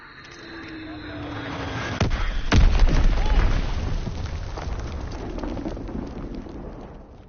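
Fritz X guided bomb dropping and striking in Call of Duty WW2's Winter Siege map, a sudden loud boom that swells into a long rumbling, crackling roar and then slowly fades, with voices mixed into the game noise.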